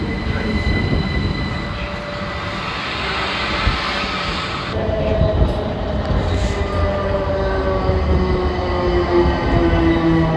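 A Southern train at a Clapham Junction platform rumbles steadily with rolling wheel noise and thin, sustained squeals, growing slightly louder midway through, with no voices.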